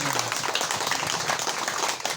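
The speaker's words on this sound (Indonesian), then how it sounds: "Tepuk tangan dulu Pak. Tepuk tangan dulu." A crowd applauds with dense, steady clapping that fills the whole short stretch.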